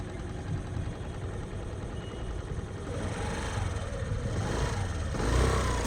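A scooter engine runs during a driving lesson, a low steady rumble that swells louder toward the end as the throttle opens.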